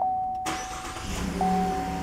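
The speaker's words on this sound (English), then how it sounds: "our engine starts normally." A 2018 Chevrolet engine cranks with a sharp start and catches into a steady, close running idle, a faint electronic chime tone sounding before and after.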